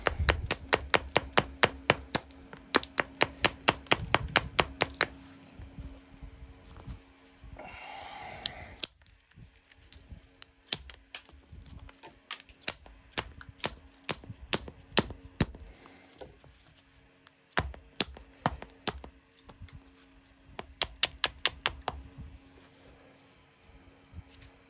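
Stone striking chert while flintknapping an arrowhead, sharp clicking taps in quick bursts and steady series, working flakes off the edge, close and crisp with brief pauses and a short rustle between strikes.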